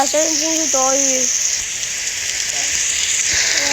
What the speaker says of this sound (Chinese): 下雨了，先进去躲雨。